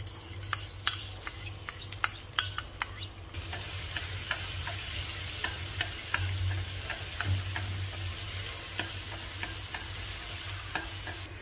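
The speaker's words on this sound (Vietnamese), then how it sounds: "Mình sẽ cho hết cái phần tỏi vô mình phi nè" Garlic frying in a spoonful of oil, opening with a few sharp clinks of a utensil against the pan, then a steady close sizzle that continues alone for several seconds.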